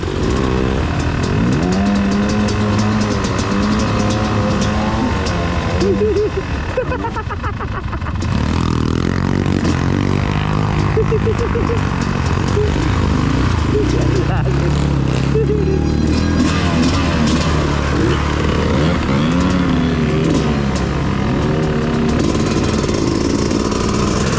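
A trail motorcycle engine revs and labors loudly and continuously while crossing a river, pitch rising and falling as the throttle changes, with occasional splashing and voices faintly underneath.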